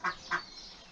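Two quick, nasal duck quacks close together, fairly near and distinct, followed by quiet background in a garden with ducks, goslings and chickens.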